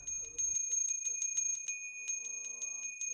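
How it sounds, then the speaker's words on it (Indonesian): A bell rings repeatedly on the slopes of Mount Agung, Bali, in a steady rhythm of bright, ringing strikes, with a low rumble at the start and a sustained tonal hum joining later. "Suara lonceng menjadi mukadimah"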